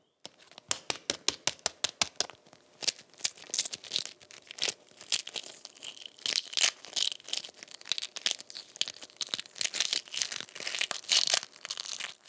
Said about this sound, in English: Crunching the shell of a boiled egg makes me so hungry.